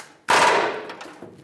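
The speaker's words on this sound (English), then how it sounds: "Use the air hammer for that one." A single loud, sharp air hammer bang punching out a rivet on a Chevrolet Silverado leaf spring shackle bracket, followed by a fading rattle and a couple of faint clicks.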